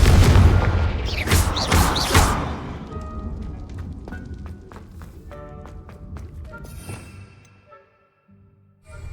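A blast spell exploding in the Hogwarts Legacy video game: a cluster of loud booming bursts up front, followed by scattered thuds, debris clatter and fading rumble tailing off to near silence.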